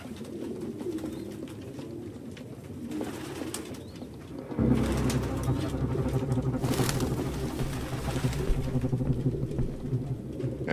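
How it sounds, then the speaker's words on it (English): Pigeons coo in an abandoned apartment in the Detroit: Become Human video game, a low murmur of cooing and rustling amid steady room noise that grows louder partway through. "No human could live with all these fucking pigeons."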